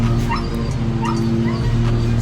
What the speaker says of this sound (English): You can hear my dog. She's in the window.